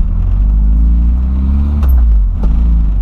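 A Volkswagen Voyage GL accelerates hard, its engine a loud, close, deep droning rumble with rising harmonics and a couple of brief shifts in pitch.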